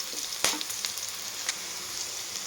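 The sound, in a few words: ginger garlic paste frying in a pan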